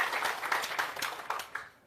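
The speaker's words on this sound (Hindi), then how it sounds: "जोरदार ताली।" A meeting crowd with Prashant Kishor at the Bihar Satyagraha Ashram breaks into fairly faint, sustained applause, a steady patter of many hands clapping throughout, fading toward the end.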